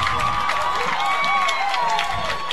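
A high school football crowd at Bowdon on Breast Cancer Awareness Night roars and claps steadily, a loud dense wash with whistling tones, while a commentator talks over it.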